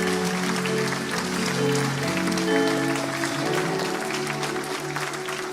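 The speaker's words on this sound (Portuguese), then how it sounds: "Vamos aplaudir ao Senhor." A church congregation applauds continuously, a dense, loud wash of clapping with worship music sustained underneath.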